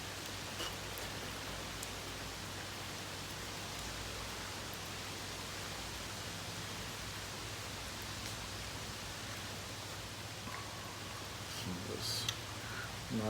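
Steady heavy rain pours down continuously, a dense hiss of water close by with no voices, faint irregular taps near the end.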